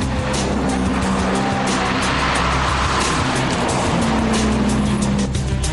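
A Ferrari V12 supercar with a carbon-fibre body drives fast on a track, its engine roaring loud and close without a break, with tyre squeal mixed in.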